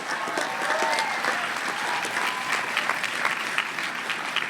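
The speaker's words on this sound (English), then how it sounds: "Give yourselves a round of applause" Graduates of the class of 2021 applaud at a hooding ceremony, a steady dense wash of many hands clapping that holds evenly throughout, with crowd murmur underneath.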